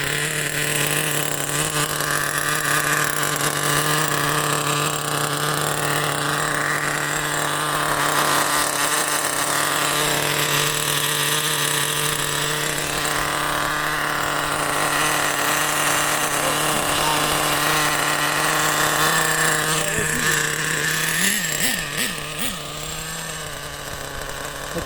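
A Schumacher Nitro .28 RC car engine running continuously in a high, buzzy, steady whine, loud and close, with a shift in pitch near the end as it revs.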